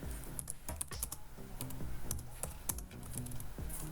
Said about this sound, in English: do some typing.